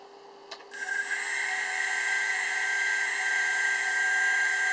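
A homemade brushless CNC spindle spins up from a short click into a steady, loud high-pitched whine that holds and slowly strengthens, with no talk over it.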